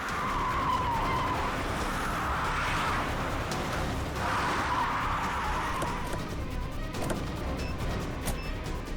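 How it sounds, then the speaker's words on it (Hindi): A car skids in a police drama scene, tyres screeching in two long, loud smears of noise over a continuous rumbling background. "गाड़ी रोक दीजिए सर।"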